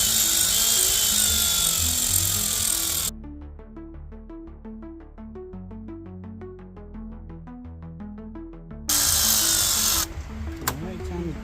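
A power tool running down the valve cover bolts on a Dodge SRT4 engine, a loud close whirring burst at the start, then a lull with talk, then another short burst of whirring.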